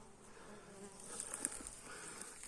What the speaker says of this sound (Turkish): Arı gelmiş arkadaşlar. Tuzak kovanımızın biri birine girmiş.